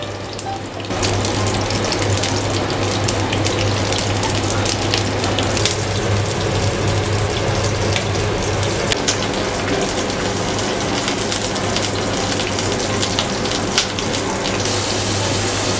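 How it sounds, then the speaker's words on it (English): Beef bones frying lightly in hot oil in a pan for a Vietnamese country dish, a dense steady sizzle and crackle that starts abruptly and continues loud and close with no talking. "Heat some oil in a pan and lightly fry the beef bones."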